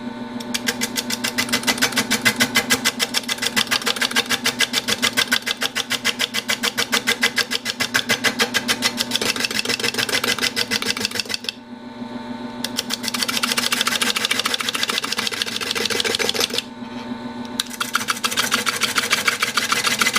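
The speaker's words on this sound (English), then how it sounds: "I'm going to clean up this back edge now and get it the back true. I'm going to use this square carbide cutter" A wood lathe turns a live-edge walnut bowl while a square carbide cutter cleans up and trues the back edge: a steady, loud, buzzy whir with continuous cutting chatter, briefly interrupted twice as the tool lifts away.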